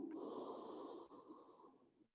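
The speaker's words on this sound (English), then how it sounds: "Let's give it one more big inhale." A deep breath is drawn in during a power yoga class, a steady, airy, slightly wheezing inhale held close to the microphone that fades after about two seconds.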